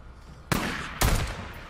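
Two sharp gunshots in the Days Gone video game, loud and close, about half a second apart, each with a brief rumbling tail.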